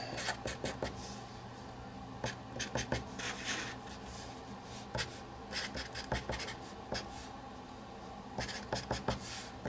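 A pen or marker scratches quickly as a cysteine molecule diagram is drawn by hand. The strokes come in short, irregular bursts, faint and close, with no speech.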